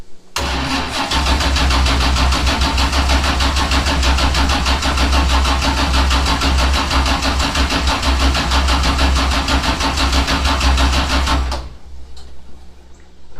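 A 427ci LS V8 cranks hard for about eleven seconds without firing, a loud, steady mechanical churn of the starter that then cuts off, leaving quiet shuffling and no voices.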